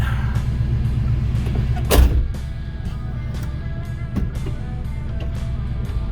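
A 1990 GMC Jimmy 4x4 with a 5.7 EFI V8 idles with a low, steady, mellow rumble, with a brief louder surge near two seconds as it is shifted into gear, then settles back to an even idle.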